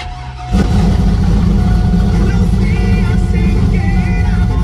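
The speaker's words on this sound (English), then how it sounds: "Now let's hear it with the cold start." A car engine starts cold, cranking briefly and then catching into a loud, steady idle with a broad rumble, close by.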